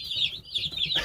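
Cornish Cross meat chickens cluck and chatter in a brief, fairly close burst of overlapping bird calls, with no talking.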